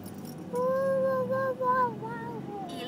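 A young child imitating a dog barking with their voice, giving a few drawn-out, high-pitched yelps in quick succession, close to the microphone over a quiet room.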